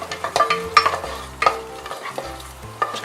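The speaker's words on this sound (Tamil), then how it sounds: "நெய் நல்லா சூடாயிடுச்சு, முந்திரி பருப்பை போட்டுட்டு முதல்ல அதை கொஞ்சம் நேரம் வறுத்துடலாம்" Cashews frying in hot ghee, a light sizzle punctuated by repeated stirring scrapes and small clinks of a spoon against the pan, close and uneven in rhythm.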